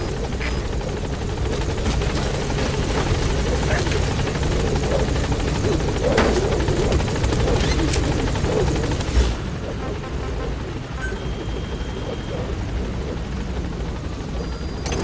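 A helicopter in Metal Gear Solid V: The Phantom Pain rotor-thumps steadily and loudly while landing, a continuous dense drone that eases slightly partway through, with faint radio-style voices beneath.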